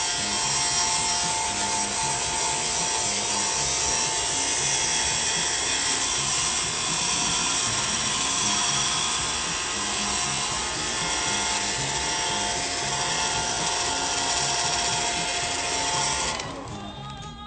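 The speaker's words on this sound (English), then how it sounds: "it's time to pull out hair dryer once more." A hair dryer runs continuously at close range, a steady whooshing blow with a faint whine layered over it. The level holds even throughout, then drops off just before the end.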